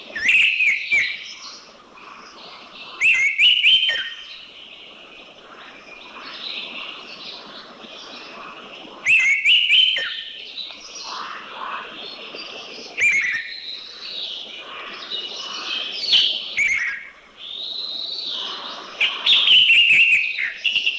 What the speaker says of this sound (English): Number 65, the orange-headed thrush.